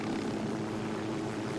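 A helicopter in the video game Ghost Recon Wildlands, flying high, drones with a steady low rotor and engine hum, continuous and fairly quiet, with no voices.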